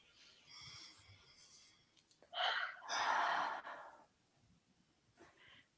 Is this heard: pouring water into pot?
no